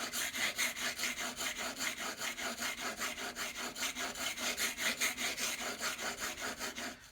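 A Stanley 110 block plane blade being sharpened on a whetstone, a fast, steady back-and-forth rasping scrape repeated without pause, close and even, with no voices.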